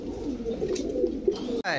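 Gola pigeons, two pairs kept for sale, coo in low, soft, repeated murmurs close by, with brief voices in the background.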